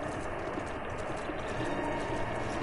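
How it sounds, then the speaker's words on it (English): Sleipnir, Odin's horse mount in Final Fantasy XIV, trots with a steady rhythmic clip-clop of hoofbeats, close and moderately loud, repeating evenly with no talk over it. "This is an awesome horse."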